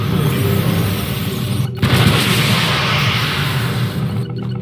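Artillery strike in the real-time strategy game Red Alert 3, with heavy rumbling blasts and a dense rolling barrage of booms and crackling fire, loud and continuous, briefly dropping out before the barrage continues.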